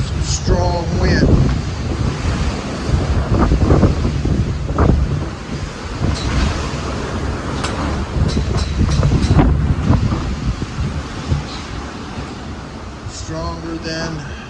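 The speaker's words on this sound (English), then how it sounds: "Some strong wind." Strong, gusting wind from Hurricane Zeta roars steadily near the New Orleans area, buffeting the microphone with rumbling bursts and rushing noise for the full length, with someone speaking briefly over it.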